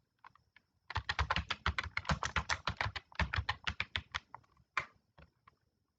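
Rapid typing on a computer keyboard while filling in a CV, with dense close key clicks in two bursts separated by a short pause and a few scattered taps at the start and end, and no voices.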